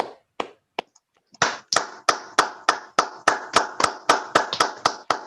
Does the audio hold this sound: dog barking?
no